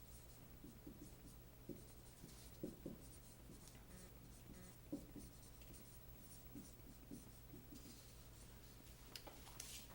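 Pen scratching on paper while filling in a statistics summary, steady soft strokes close by, continuing through the clip over a low constant hum.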